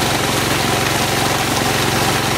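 Savana Mining circular jig gravity concentrator driven by a Siemens electric motor, running on test before powder coating, a steady loud mechanical drone with fast regular rattling vibration throughout.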